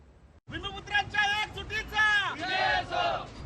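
Large protest crowd at a Navi Mumbai airport rally chanting loudly in unison, repeated rhythmic slogans rising after a short quiet start, close and sustained throughout.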